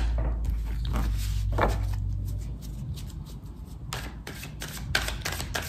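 Oracle cards for a three-card draw being shuffled with steady papery riffles and rustles over a low background hum, with no one speaking.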